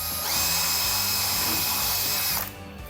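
A power drill drives screws into the panels of a DIY kitchen island cabinet, making a loud, steady high-pitched whir for over two seconds, close by, before it stops abruptly and leaves a quieter room tone.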